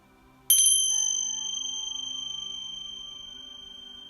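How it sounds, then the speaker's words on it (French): A single meditation bell is struck once, ringing out clear and bright with a sustained tone that fades slowly over several seconds in a quiet room. "Puis au son de la cloche,"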